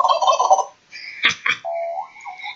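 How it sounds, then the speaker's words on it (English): A turkey in a Roblox game gobbles loudly in a few quick bursts, followed by a sustained warbling call, close and clear with no talk over it. "the turkey's in the house"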